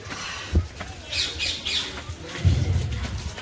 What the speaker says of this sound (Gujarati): દેશી પોપટ ઉપર કેવા છે મોટા